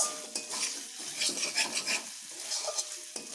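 Spice paste stirred and fried in a pan for a spinach and vegetable dish, with steady sizzling and repeated scraping clinks of a utensil against the pan, close and alone.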